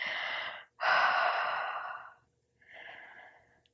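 Slow, deep breaths during a yoga session: a long airy exhale, a short pause, then another long breath and a softer one, close to the mic with no talk.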